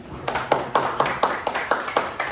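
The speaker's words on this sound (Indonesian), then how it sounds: "Untuk kelompok 2, ya kita beri tepuk tangan ya." Students in a classroom chemistry lesson on the periodic table clap in unison for a group, about nine sharp, evenly spaced claps in a steady rhythm, close and fairly loud.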